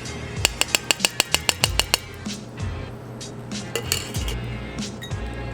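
A cocktail is strained through a fine strainer, with a quick run of about ten sharp metallic clinks in steady rhythm early on, then softer clatter and low rumbling bench noise with no talk.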